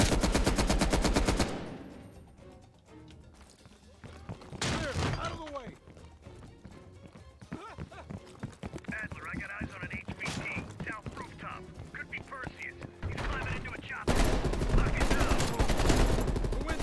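Rapid automatic gunfire in Call of Duty: Black Ops Cold War as a statue is shot, loud bursts mixed with game effects and a voice talking over parts of it.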